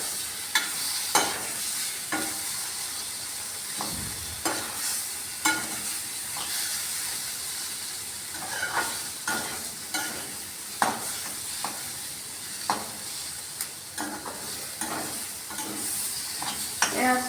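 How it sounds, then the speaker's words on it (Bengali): Onions sizzle steadily in a pan for a potato and soya chunk curry, with a spoon scraping and stirring at irregular intervals over the constant frying hiss. "পেঁয়াজ দিয়ে একটু ভাজা ভাজা করবো আমি তরকারিটা"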